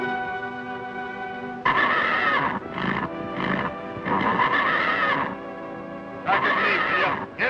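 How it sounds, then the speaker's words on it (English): A horse whinnies and snorts in several loud, drawn-out calls in a 1948 Western film, with a faint steady hum underneath. "Much obliged for the horse, Sunset."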